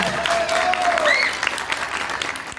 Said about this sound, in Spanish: Aplauso para Camila.